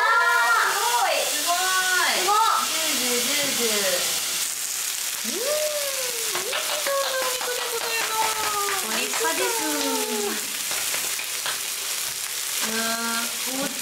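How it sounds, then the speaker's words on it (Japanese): Meat and abalone sizzle loudly and steadily on a barbecue grill, with excited voices talking and exclaiming over the constant frying crackle. "ジュージュージュージュー。"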